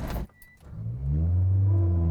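A tuned 650 WHP Mitsubishi Evo 8 engine abruptly cuts out as it stalls pulling off the line, followed by a short lull and then a steady low drone building back up.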